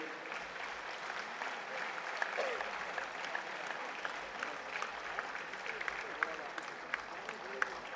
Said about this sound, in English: Can we all stand up to give Professor Anita Panda ma'am a standing ovation?